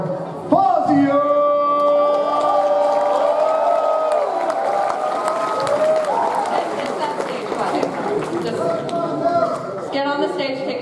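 A crowd at a late-night comedy show at Anime Expo 2015 cheers, whoops and applauds as comedian Fazio is introduced, a loud, sustained wash of clapping and shouts lasting several seconds, with some voices and chatter mixed in.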